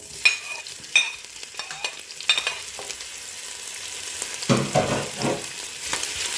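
Onion sizzles in a hot pan as the first step of a lasagne, with sharp utensil clicks early on and a louder burst of frying and stirring toward the end.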